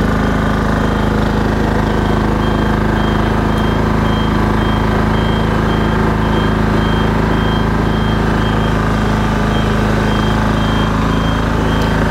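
An Athena bi-levelling scissor lift drives off an incline with a loud, steady engine drone and a repeating high reversing beep throughout.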